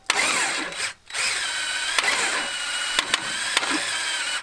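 A long-dormant, previously seized Dodge Charger engine is spun over by the starter to build oil pressure, giving a steady whirring crank that pauses briefly and then resumes, with a few sharp clicks mixed in.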